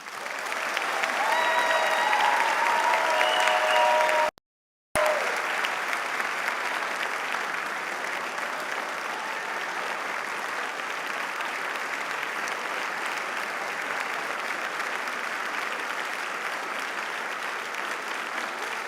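Audience applauding at a dental school white coat ceremony, a steady wash of clapping from a large crowd that holds for nearly twenty seconds, broken by one short gap.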